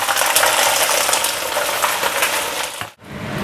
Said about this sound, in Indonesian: Nah, gorengnya lumayan lama teman-teman.